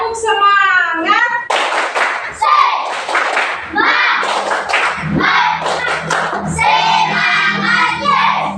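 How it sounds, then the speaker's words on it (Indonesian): Children in a classroom perform a rhythmic clapping chant, bursts of group hand claps and thumps alternating with chanted voices, close and lively. "coba sekarang tepuk semangat."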